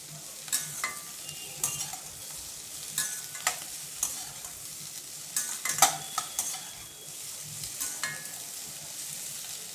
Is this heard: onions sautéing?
yes